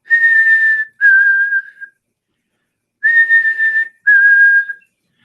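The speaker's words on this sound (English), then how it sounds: "I have a whistle I do with most things, and they recognize it." A man whistles the call he uses to get animals to recognize him: two sustained, steady tones, each followed by a slightly lower one, loud and close, with a pause between the pairs.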